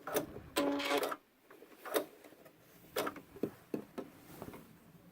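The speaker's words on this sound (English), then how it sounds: "when we get to the end here, we will back stitch a couple stitches and cut our thread" A sewing machine runs in short bursts to back-stitch at the end of a seam on a backpack, its whirring broken by clicks and pauses, close and fairly quiet.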